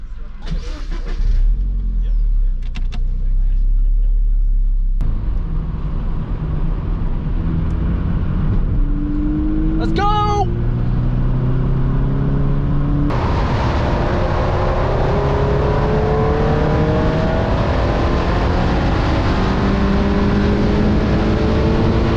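A 2022 Toyota GR86 sports car drives a lap, its engine droning loudly and steadily through rising and falling revs as it shifts gears, with wind and road noise throughout.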